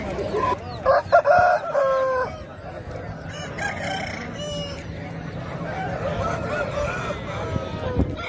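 Roosters crow loudly several times near the start, among a crowd of clucking country chickens and market chatter at a weekly chicken market in Nallapadu.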